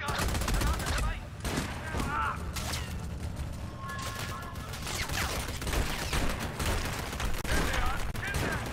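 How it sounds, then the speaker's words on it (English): Sustained gunfire in a military video game set among Army Rangers in Somalia, dense overlapping bursts filling the whole stretch at steady loudness, with voices mixed into the chaos. "Open fire with that machine gun!"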